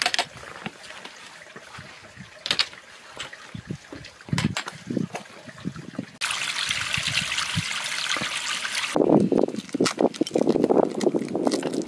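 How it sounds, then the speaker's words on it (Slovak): Mountain spring water trickling along a hiking trail in the Mont Blanc area, heard close up as a steady splashing flow that grows louder and fuller partway through, with scattered knocks and rustles around it. "je tu asi prameň, pretože počujem vodu"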